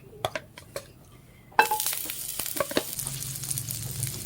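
Butter melting and frying in a hot pan while chicken is being cooked, a soft sizzle building after a sharp clatter, with scattered clinks and stirring taps up close.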